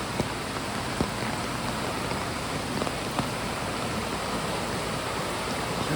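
A rough, ferocious mountain stream in the Smokies rushes in a loud, unbroken roar of whitewater, close by and steady throughout with no voices.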